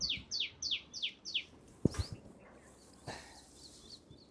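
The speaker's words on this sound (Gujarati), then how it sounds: "ચકલી બોલે પક્ષી બોલે પક્ષી" Small birds such as sparrows give a quick run of five bright chirps up close in an outdoor village setting, then a sharp knock and a few fainter calls over quiet background noise.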